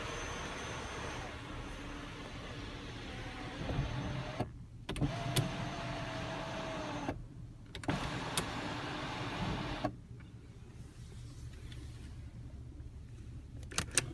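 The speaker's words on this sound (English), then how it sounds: "And you have the one-touch open and close and tilt sunroof." Power sunroof in an Audi A7 Prestige S Line or Mercedes-Benz CLS400 cabin: a steady electric motor whir runs several seconds, stops briefly, then resumes for another stretch before cutting out, with a few soft clicks.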